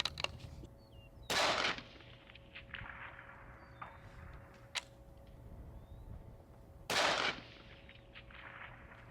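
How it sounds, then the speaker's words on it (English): Two rifle shots from a Bergara Cima in 6.5 PRC fired at a square target 700 yards out, each a sharp report trailing into a long echo, separated by several seconds of quiet outdoor ambience. "Dial it up and take 2 shots at the square target at 700."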